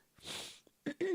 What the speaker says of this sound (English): I'm so sorry for all the sniffles